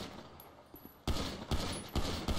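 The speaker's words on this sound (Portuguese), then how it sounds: "Olha o tiro passando aqui, ó" Bursts of rapid gunfire in the video game GTA V crackle in short volleys, starting abruptly after a brief quieter moment and repeating several times.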